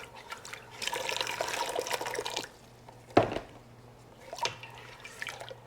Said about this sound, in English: So just enough water to get this mixed up and all dissolved.